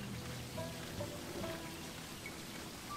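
Rain falling in Sakuna: Of Rice and Ruin, a steady hiss of drops on surfaces with no let-up, while soft melodic tones sound faintly underneath.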